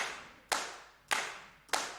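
Three sampled hand claps from a music plugin, crisp and evenly spaced about 0.6 seconds apart, each with a bright attack and a short decaying tail, alone with no voices.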